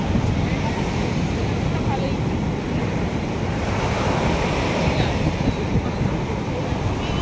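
Continuous roar of ocean surf on the beach at Puri with wind buffeting the microphone, broad and steady, with faint distant voices mixed in.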